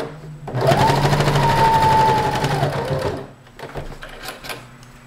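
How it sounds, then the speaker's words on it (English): A close, loud sewing machine stitches a fabric tube for a bow in one continuous whirring run of about three seconds, then slows to quieter handling clicks. "you're going to sew this into a tube and then you're going to sew this into a loop"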